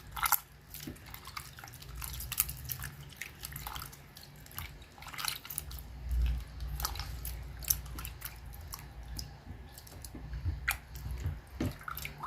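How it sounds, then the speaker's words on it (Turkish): Homemade butter is kneaded by hand after being washed in cold water, giving soft, irregular wet squelches and drips, faint and close, with no voices. "Soğuk suyumu boşalttım ve yoğurmaya devam ediyorum."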